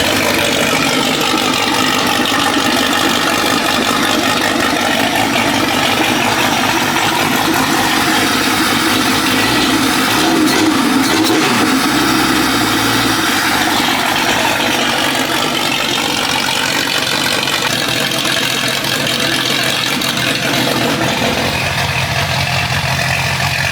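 A freshly built Jeep 5.0 stroker engine idles loudly and steadily on its first start, a dense mechanical rumble that wavers briefly midway before settling back into an even idle.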